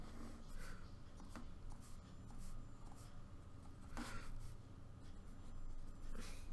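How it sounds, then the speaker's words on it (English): A pen scratches out a quick rough graph sketch on paper for an inequality problem, a steady close scribbling with a few sharper taps and strokes, continuous and fairly quiet, with no talking. "I'm just quickly draw a rough sketch here."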